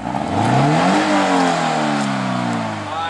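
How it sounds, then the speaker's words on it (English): A small 1.8-litre car engine revving up hard, its pitch climbing and holding with loud, raspy intake noise, close and dominant, then easing off near the end. "All you hear is a lot of intake noise"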